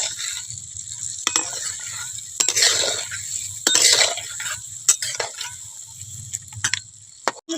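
Eggs being stirred in a pan with oil and salt give a continuous frying sizzle, broken by several sharp scrapes and clinks of the utensil against the pan.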